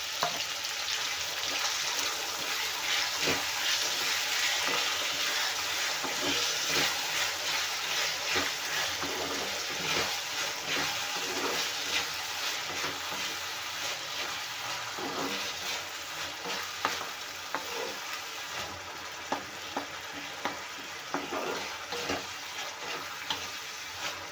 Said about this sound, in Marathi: तर इथे कांदा आणि टोमॅटो छान भाजला आहे